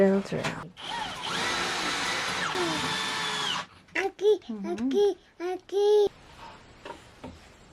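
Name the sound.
power drill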